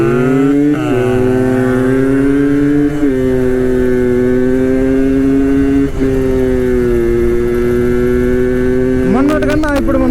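Yamaha RX135 motorcycle on the move, its two-stroke engine droning loud and close in a steady tone with brief shifts in pitch, then a sharp rev near the end.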